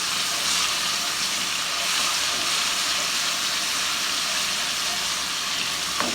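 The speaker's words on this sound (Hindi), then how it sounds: "अब जिंजर गार्लिक पेस्ट डालेंगे. अब इसको हल्का सा फ्राई कर लेंगे." Ginger garlic paste frying in hot oil in a pan, a steady loud bright sizzle that runs unbroken throughout, with no talking over it.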